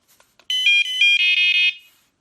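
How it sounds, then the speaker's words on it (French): A carp fishing bite alarm receiver beeps loudly and alone in a rapid run of shrill electronic tones lasting just over a second. "l'information est envoyée à la centrale et c'est la centrale qui bip"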